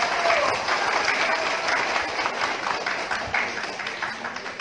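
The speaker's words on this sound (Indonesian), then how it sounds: "Tepuk tangan dulu." Audience applause at a police breaking-of-the-fast gathering and thanksgiving in Sigi Regency, a full, continuous clatter of many hands that slowly tapers slightly in loudness over several seconds.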